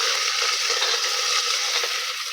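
Dried red chilies, curry leaves and onions sizzle in hot oil with a bright, dense, steady crackle that stays loud throughout, without speech over it.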